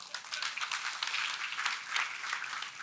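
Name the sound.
crowd cheering and applauding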